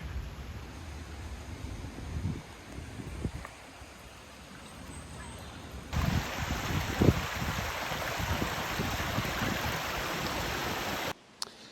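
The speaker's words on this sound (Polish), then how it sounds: "Mamy taki strumyczek." A small stream flows beside a footbridge on a walking trail near Brombil Reservoir. It makes a steady, broadband rushing wash, heard close by, with wind buffeting the microphone. The flow grows louder partway through and then cuts off abruptly.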